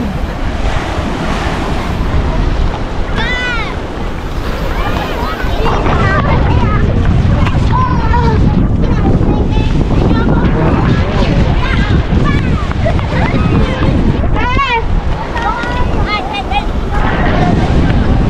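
Loud, relentless wind roaring and buffeting the microphone on the coast at Rosario, Cavite, mixed with crashing surf; voices are faintly heard beneath the gusts.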